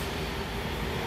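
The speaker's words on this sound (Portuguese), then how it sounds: "Esse é o trem série 2000." A Brasília metro Series 2000 train leaves Shopping station with a steady rumbling roar of rolling stock and traction noise, close and continuous.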